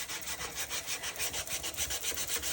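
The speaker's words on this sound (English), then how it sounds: "sand these edges and take this off" Sandpaper rubs briskly back and forth along the edges of a piece of chipboard, making a rapid, even run of close, raspy strokes of about four per second, with no talking.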